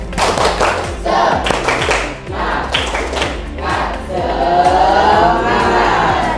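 A group, likely classroom children, clapping a rhythmic 'tepuk semangat' cheer, sharp close claps in a steady patterned beat with crowd noise behind, then a swell of voices near the end.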